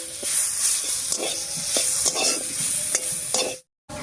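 Greens stirred with mustard oil in a pan: loud, close frying sizzle broken by repeated sharp scrapes of a spatula against the metal, ending in a brief cutoff.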